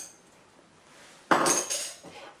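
A spoon clinks and scrapes against a mixing bowl while stirring yeast, warm water and sugar, a quiet lead-in followed by a burst of several close metallic knocks and rattles.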